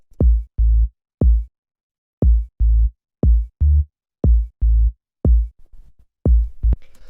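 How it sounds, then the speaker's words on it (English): Deep house bass percussion stab built from two layered sounds, playing alone as a loud, punchy repeating pattern of short low thumps with a clicky attack, spaced in regular pairs. "after that we have the bass, which is made actually out of two sounds"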